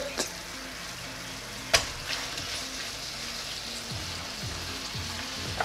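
Shrimp frying in a pan of caramelizing sauce over medium heat, a continuous close sizzle with stirring scrapes and a couple of sharp clacks from utensils.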